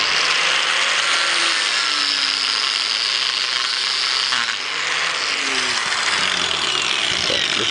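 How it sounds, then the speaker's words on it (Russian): An angle grinder cuts through steel nuts in a steady, loud, continuous high-pitched whine with a brief dip in pitch midway as the disc bites, no voices over it. "Болгарочки, разрежем гайки."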